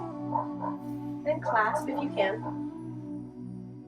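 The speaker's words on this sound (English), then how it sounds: "Please excuse the dog." A roommate's dog barks indoors during a home yoga class: a few short, sharp barks close together in the middle, partly under the instructor's calm spoken cues and a steady hum.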